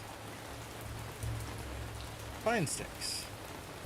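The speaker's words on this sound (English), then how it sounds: "the rain is rather soothing." A soft, even rain hiss runs throughout, broken near the end by a brief sweeping whoop-like tone and a short spoken phrase.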